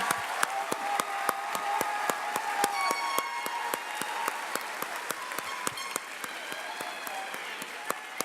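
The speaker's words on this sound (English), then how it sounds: "How about another round of applause for our graduates from the class of 2018?" Graduation ceremony crowd applauding the Early College High School class of 2018, continuous dense clapping with sharper individual claps standing out, fairly distant and moderately quiet, joined by a few faint cheers.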